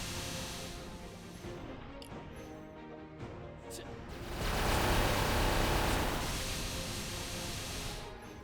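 Spirit Claw skill effects in Maplestory, a dense, continuous wash of layered game hits and noisy bursts that swells louder midway and holds before easing slightly.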